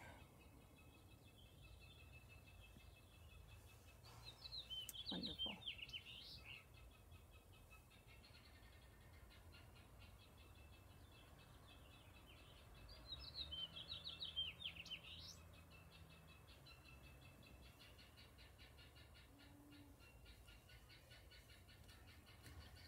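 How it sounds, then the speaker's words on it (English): Faint birdsong chirps come in two brief bursts over a steady low background hum, distant and soft in an otherwise quiet outdoor setting. "everybody can hear the birds singing and everything."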